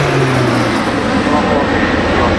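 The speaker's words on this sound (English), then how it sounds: "But it's a very impressive aeroplane, very agile, and these guys really know how to handle it." Aeroplane flying at the Serpentine Victoria Centenary Air Show, an agile aerobatic aircraft rated at about 1,700 shaft horsepower, giving a loud, steady, continuous engine roar that fills the whole moment without a break.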